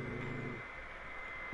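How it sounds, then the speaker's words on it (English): A dog indoors gives a low, faint growling rumble at the start that fades into quiet room noise. "Don't bark. Do not bark."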